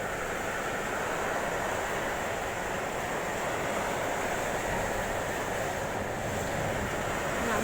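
Strong wind and rain roar outside during a hailstorm, a dense, continuous rushing wash of noise that holds steady without a break and carries no voices.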